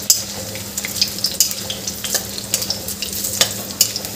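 Yam (suran) pieces fry in a pan of hot oil, giving a steady close sizzle with sharp crackling spits and pops coming every fraction of a second.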